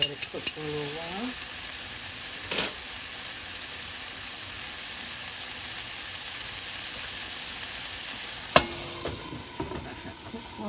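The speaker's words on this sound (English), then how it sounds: "I'm going to let that cook right there" Beef taco meat cooks in a covered pan with a steady low sizzle throughout, a couple of short clinks or stirring knocks near the start, middle and end, and faint voices in the background.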